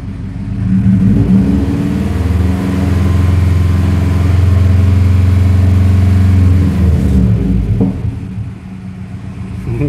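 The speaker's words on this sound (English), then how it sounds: "I'm trying to rev in my engine." A car engine revved in place during a coolant flush and thermostat replacement, rising from idle into a sustained loud, rumbling hold for several seconds before dropping back, heard up close.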